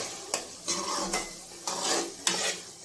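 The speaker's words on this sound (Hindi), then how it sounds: "तो मटर थोड़ी देर फ्राई हो जाते हैं" Green peas frying in a pan, a soft sizzle punctuated by four distinct scraping stirs of a spoon against the pan, close and moderately quiet.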